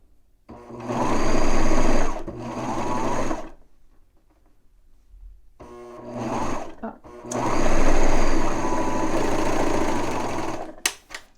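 A serger sewing machine stitches a banded T-shirt neckline in several loud, whirring runs separated by pauses, with brief quiet handling noises in the gaps.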